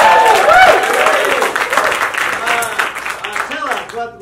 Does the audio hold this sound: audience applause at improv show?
yes